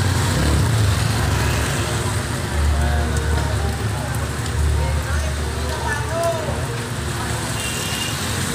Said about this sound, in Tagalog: Lilinis na naman ang Pilipinas guys dahil sa ulan